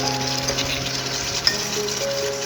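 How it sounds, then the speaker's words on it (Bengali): Browned chicken pieces sautéing with spices in a pan for a home-cooked chicken curry, a steady close sizzle with faint stirring and one brief clink. "আর এখন মাংসগুলো কিছু সময় কষিয়ে নেব।"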